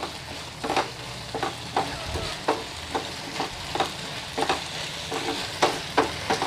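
Chilly idli fries in a pan with capsicum and sauces, a constant sizzle under repeated scraping stirs that come in a fairly regular rhythm about every half second, close and clear.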